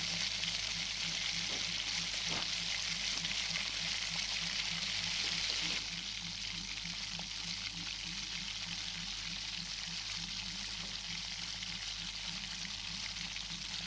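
Pav bhaji masala is stirred into vegetables frying in a pan, giving a steady close sizzle with rhythmic scraping strokes throughout, no talk.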